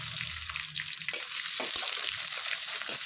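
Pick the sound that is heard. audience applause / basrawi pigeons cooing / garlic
garlic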